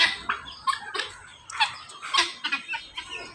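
Several chickens perched on an outdoor wall, clucking in short irregular bursts at close range, moderately quiet, with no talking over them.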